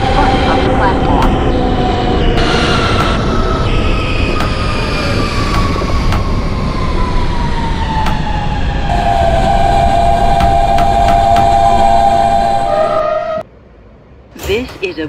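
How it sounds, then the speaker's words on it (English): An R160B Siemens subway train on the Q Express line to Coney Island, in the OpenBVE simulator, runs with a steady loud rumble and a rising motor whine that fades sharply near the end, with an announcer's voice over it. "This is a Brooklyn-bound Q Express train."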